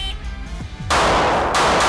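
A Platypus pistol fitted with an integrated compensator fires one sharp, loud shot close by, its blast ringing out and holding through the rest of the clip, with faint quieter sounds just before it.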